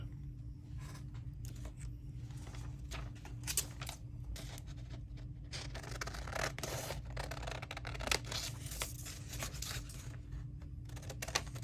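Scissors snip through folded braille paper in a run of short crisp cuts and rustling scrapes, close and fairly quiet over a low steady hum, with no talking.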